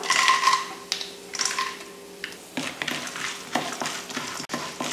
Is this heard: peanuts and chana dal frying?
yes